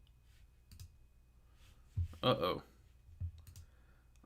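Faint mouse clicks sound on a computer during a live stock-market chat, a few scattered taps with a short cluster in the middle, while a voice speaks briefly.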